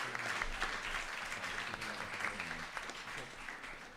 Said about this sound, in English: this resolution passes, and clapping is now in order